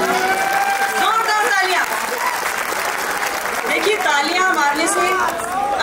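An audience at a comedy show claps along, with broad continuous applause under a loud singing and talking voice and scattered crowd chatter.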